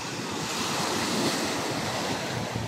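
Sea waves breaking on a beach of medium-sized stones, a steady continuous wash of surf with some wind noise on the microphone, close and fairly loud throughout with no voices.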